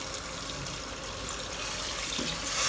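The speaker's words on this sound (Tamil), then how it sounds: "இப்போ இந்த ஸ்டேஜில் நம்ம தண்ணி ஊற்றிக்கலாம்" Water pours steadily into a pot of soaked basmati rice, a continuous splashing rush that grows slightly louder toward the end, close by with no talking.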